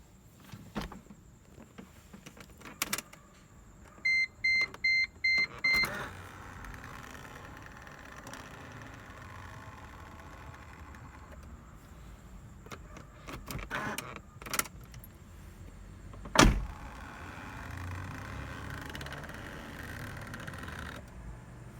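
A key rattles and jangles at the ignition of a German car with a sticking steering lock, with a short run of electronic chime beeps and a few sharp clicks in a quiet cabin.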